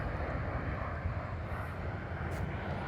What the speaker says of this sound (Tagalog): may mga aeroplano rito kasi malapit to sa San Francisco Airport